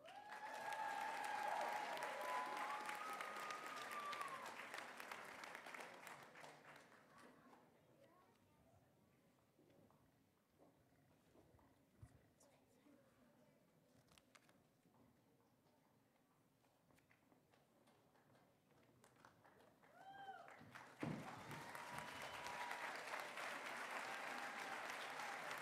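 Audience applause for pageant candidates, loud clapping at first that fades into a quieter stretch with scattered claps, then swells again into strong applause near the end.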